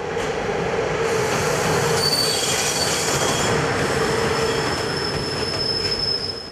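A direct train from Brașov rolls into a Romanian seaside station with a continuous loud rumble and high, sustained wheel squeal, steady throughout with no voices.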